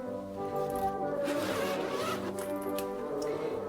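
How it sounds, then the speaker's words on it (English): A bassoon case being zipped shut, a soft rasping zipper run in the middle of the clip over a steady tonal background hum. "the case still zips with no damage to the bassoon"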